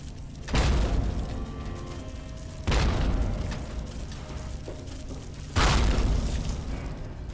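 Three heavy grenade blasts from the video game Fallout 3 boom one after another, each a loud broadband burst that rumbles and fades into a steady low background, spaced a couple of seconds apart.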